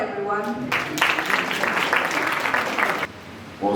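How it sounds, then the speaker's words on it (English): Applause at a national moot court competition breaks out as a loud burst of clapping lasting about two seconds, with a voice speaking just before and again right after. "Let's welcome him with a round of applause, everyone."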